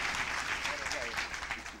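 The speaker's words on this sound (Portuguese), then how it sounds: "dar mais uma salva de palmas ao Senhor" A church congregation claps through a worship service: steady, dense applause from a crowd fills the room, with a voice talking over it.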